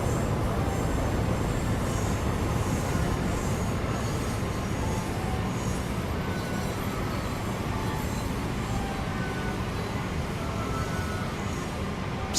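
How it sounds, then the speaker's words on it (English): A train departing a station in the Train Sim World video game, a steady loud rumble of wheels and motors with faint squeals, continuous throughout with no talking. "We can watch one of these trains leave."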